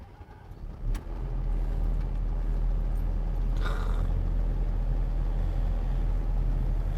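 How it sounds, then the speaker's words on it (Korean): A 2019 Doosan DX210W-5 wheeled excavator starts up, a brief crank and catch followed by a loud, steady idling rumble that holds on close by. "일단 시동을 먼저 걸게요."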